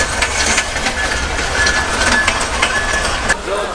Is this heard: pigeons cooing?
no